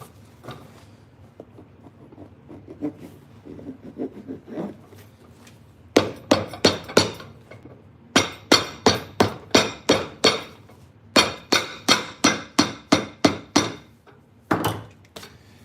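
A hammer tapping a channel closed on an ostrich leather cowboy boot during repair: bursts of sharp, bright taps in quick rhythmic runs of about six to eight strikes, close and loud, with quieter handling sounds between them.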